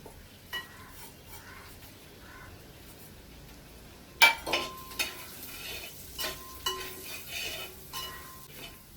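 Kashmiri chili powder and salt sautéing in a pan for Kerala-style chilli chicken, a soft steady sizzle with repeated scraping stir strokes and light metallic clinks, growing busier partway through, no talking.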